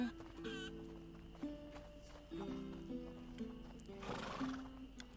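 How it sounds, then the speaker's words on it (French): A small horse neighs at night outside a pigsty in A Plague Tale: Innocence, with a clear whinny and snorting over faint game music and a few hoof clops, fairly close and distinct. "Le cheval."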